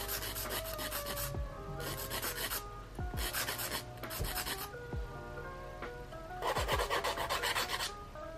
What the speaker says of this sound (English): we're gonna go ahead and straighten that up by just filing the underside